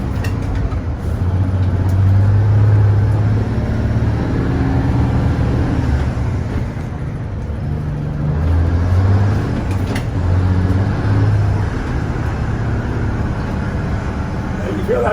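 Bainbridge Crown bus with a big 855 cubic inch engine slowing down, a deep, steady diesel drone that sags and swells in pitch as the engine holds the bus back, heard from inside, with someone talking throughout.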